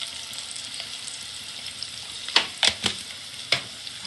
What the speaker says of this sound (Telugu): అల్లం పేస్ట్ కూడా వేసేస్తున్నా